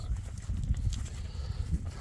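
A sheep walks close behind on a grassy pasture, with soft, uneven low thuds of hooves and light rustling, faint and steady, no talk.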